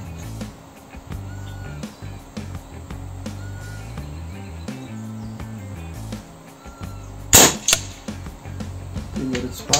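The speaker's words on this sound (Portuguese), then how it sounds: "Vou fazer uma sequência aí de 5 disparos para cada um" A single 18.21-grain slug fired from an air rifle with a Lothar Walther polygonal barrel gives one sharp, close crack late on, set against a quiet background of faint insect-like chirps and low hum.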